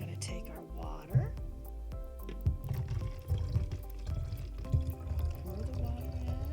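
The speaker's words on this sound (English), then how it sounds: "pour the water in." Water pours from a container into a plastic bottle, a close gurgling trickle that rises in pitch as it fills, while a person talks quietly over it.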